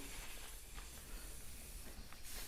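Steam hissing loudly and steadily from a fully pressurized pressure cooker being vented while cooking khichdi, a continuous broadband rush with no talk over it.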